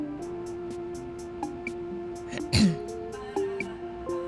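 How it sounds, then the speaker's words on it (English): A woman in the video game Dreamfall: The Longest Journey clears her throat, a short rough rasp near the middle, set over a quiet game music bed with soft tonal notes. "Just clearing my throat. Dry air."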